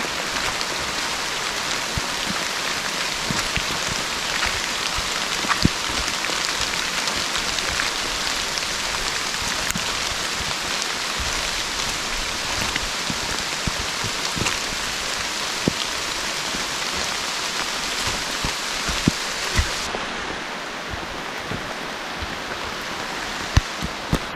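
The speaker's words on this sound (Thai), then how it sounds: "ฝนตก" Steady, dense rainfall hissing continuously with scattered sharper drops on a forest trekking trail at Khao Luang, constant in level throughout, with no voices.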